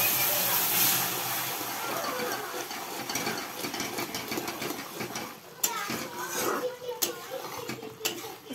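Water poured into a hot pan on a low gas flame bursts into a loud, broad sizzling hiss with spattering crackles that slowly eases, while a voice can be heard underneath.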